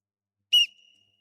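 A single sharp, piercing whistle blast opens a World Cup 2026 spoken word contest final; the short, loud tone trails off into a thin ring, with nothing else around it.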